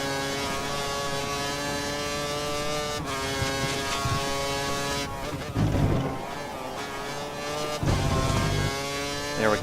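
A race car engine drones steadily through a video game racing session, its pitch rising and falling through gear changes and braking, with a couple of deeper rumbling surges near the middle and end.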